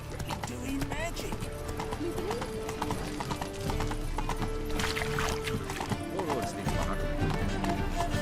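Roach the horse from The Witcher 3 galloping, a steady rapid clip-clop of hooves running throughout, close and prominent, mixed with game sounds and occasional speech.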